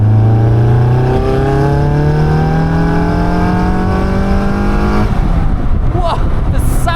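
Caterham 340S sports car engine pulling hard through the gears, close and loud from the cockpit, rising revs with a gear change and a brief voice near the end.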